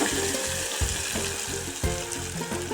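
Onions and fenugreek-leaf dal cooking together in a pan give a busy, close sizzle with crackling and bubbling, broken by repeated stirring scrapes.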